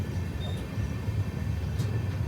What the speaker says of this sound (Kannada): ನೋಡಿ ಈಗ ನಮ್ಮ ಟ್ರೈನು ಚನ್ನರಾಯಪಟ್ಟಣದಿಂದ ಡಿಪಾರ್ಟ್ ಆಗ್ತಿದೆ.